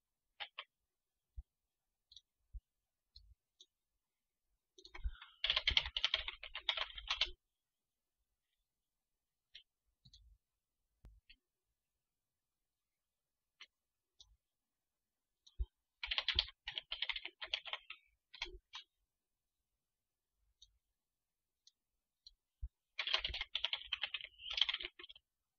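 Computer keyboard typing in three separate bursts of rapid clicking keystrokes, close and quiet, with scattered single clicks and near-silence between bursts.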